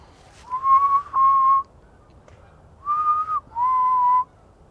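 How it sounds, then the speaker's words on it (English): Four clear whistled notes in two pairs, steady and fairly loud, close by, with a quiet pause between the pairs, outdoors at a campsite at night. "we will whistle a lot to try and, like I said, agitate them"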